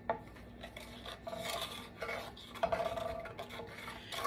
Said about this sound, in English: I'm going to give it a quick stir.